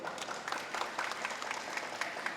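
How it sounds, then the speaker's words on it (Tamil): An audience at a Tamil speech event honouring Kalaignar claps briefly together, the applause fairly faint and distant with a loose, uneven rhythm. "எல்லாரும் ஒரு தடவை நல்லா கை தட்டிட்டு நிமிர்ந்து உட்காந்துக்காங்க"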